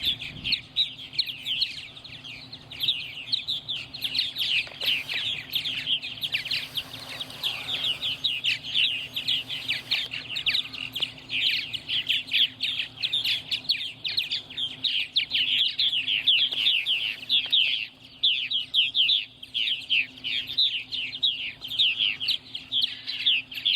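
Purple martins chatter and chirp continuously on an evening in Center Moriches, Long Island, New York, a busy flock of many overlapping warbling calls over a faint steady hum.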